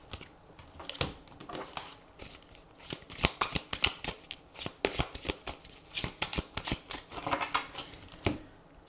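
Tarot cards are shuffled by hand in a rapid run of crisp riffling slaps and flutters, close and fairly quiet, with no talking.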